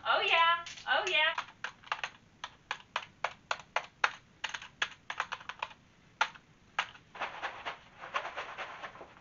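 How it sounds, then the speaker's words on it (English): Pens tapped together make a run of quick, light clicks in an irregular rhythm, close and fairly crisp, with a short burst of faster rattling at the start and brief pauses between clusters. "Pens we can shake, or we can tap them together."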